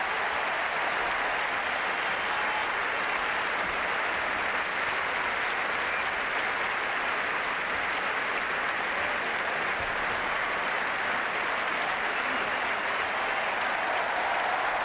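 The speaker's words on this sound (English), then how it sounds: "a wonderful and deserved round of applause as well for Franco Squilari" Sustained, dense applause from a large tennis crowd at Roland Garros during the 2001 French Open match between Agassi and Squillari, a steady loud roar of clapping with no break.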